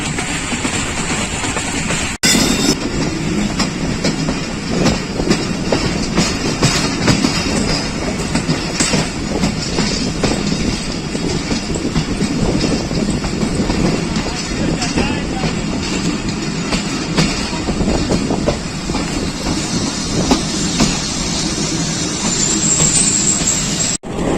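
A Pakistan Railways passenger train, the Pakistan Express, rolls along the rails with a constant rumble and rhythmic clatter, loud and close, steady for the whole stretch.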